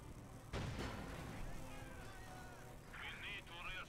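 Heavy gunfire and artillery from a World War II battle in Company of Heroes 2, with Panzer Grenadiers firing, a loud blast near the start followed by sustained rumbling fire under a commentator's voice.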